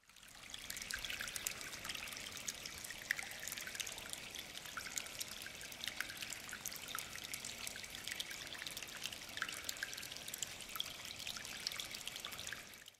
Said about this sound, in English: Firstly, is water coming out of a pipe, and this is before all the processing too.